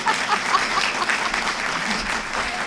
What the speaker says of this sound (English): can you clap for me?